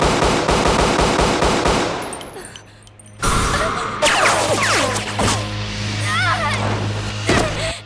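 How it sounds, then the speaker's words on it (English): Anime gunfire fills the opening as a dense, rapid burst of machine-gun shots, then breaks off into a quiet pause before sharp metallic clangs, ricochet-like whines and further impacts follow. "There are more sounds of the gunshot than there are of the bullets being deflected"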